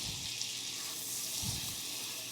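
Flour and chicken fat sauté together in a hot pan for a roux, giving a steady, close, even sizzle that stays level throughout with no talking.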